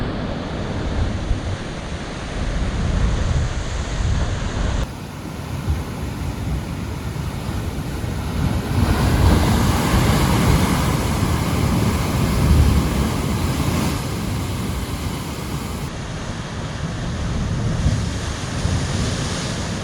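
Ocean waves at low tide off Nusa Lembongan, Indonesia, wash in as a steady, full surf roar with wind buffeting the microphone, swelling slightly in the middle and holding loud throughout, with no voices.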